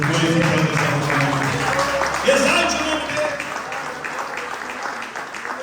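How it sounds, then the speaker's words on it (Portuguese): A church congregation applauds strongly, a broad wash of clapping running beneath a preacher's loud, amplified voice. "aplauda bem forte o nome do Senhor"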